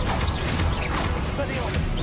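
A Confringo spell cast in the Hogwarts Legacy video game bursts out as a loud, dense crackling blast with a sweeping whoosh, lasting about two seconds and filling the whole moment.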